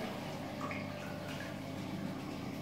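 Water draining out of a toilet cistern, a steady low gurgling wash of liquid that holds at an even level throughout, fairly close and without any voices.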